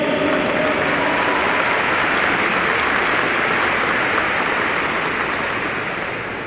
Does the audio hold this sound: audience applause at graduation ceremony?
yes